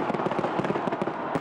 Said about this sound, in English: the sky filled with fireworks and music